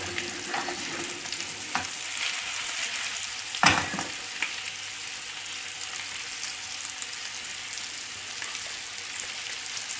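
Cod fillets fry in butter and oil in a pan with a steady, close crackling sizzle, broken by occasional stirring and utensil scrapes and one sharp clink, with no talking.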